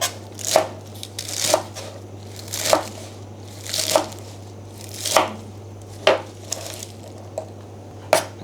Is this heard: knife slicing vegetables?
yes